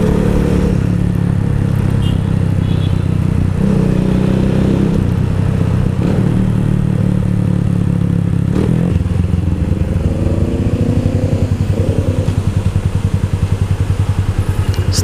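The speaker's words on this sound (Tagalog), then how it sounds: "Pinili ko itong beer bottle pipe dahil natutuwa lang ako sa tunog." A motorcycle with a beer bottle exhaust pipe idles and revs close by, with a steady low throaty rumble that swells and settles for the whole stretch.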